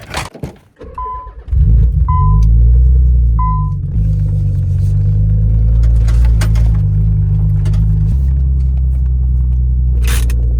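A few chimes sound, then a Nissan 300ZX engine starts and settles into a loud, steady idle that continues throughout, with faint clicks and rattles.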